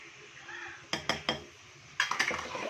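A metal spoon knocks and scrapes against a pan as tomato and spices are stirred into a meal maker and potato curry, with a few distinct clinks in two short clusters over quiet kitchen background.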